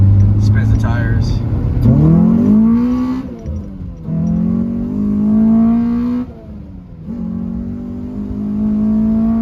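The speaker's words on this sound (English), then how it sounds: "watch when I punch it in first gear, it literally just spins the tires." A Honda Civic with a K24 engine swap revs hard in first gear with its tires spinning. The engine note climbs loudly in repeated pulls and drops between them, with a brief voice early on.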